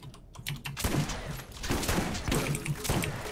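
Rapid, punchy shotgun blasts in the shooter game Borderlands, a quick run of sharp close thumps over a dense game backdrop.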